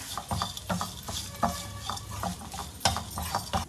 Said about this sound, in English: Toss it well in the pan because it is still hot.